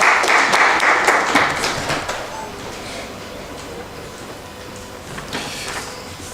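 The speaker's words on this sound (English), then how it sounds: "A round of applause for Anthony, please." Audience applause at the launch of a rugby sevens tournament, greeting a brewery sponsor's business manager; crisp claps peak early, then fade to a thinner patter with a few late scattered claps.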